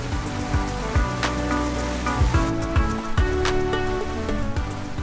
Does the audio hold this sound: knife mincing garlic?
no